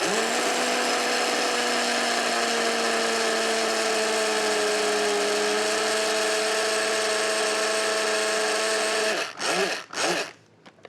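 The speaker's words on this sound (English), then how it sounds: "So we'll just grind it for about 10 to 15 seconds." An electric grinder whirs loudly as it blends vegan Parmesan cheese with turmeric, a steady high motor whine for about nine seconds that cuts off and is followed by two short pulses.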